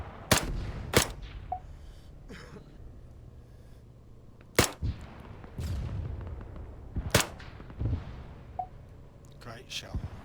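Single sharp gunshots from an M14 DMR in the video game Arma 3 crack out at irregular intervals, about half a dozen loud, isolated reports over quiet background noise.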